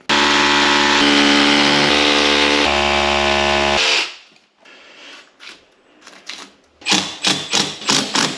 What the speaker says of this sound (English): Same on the other side, and then we'll get them drilled onto the wall.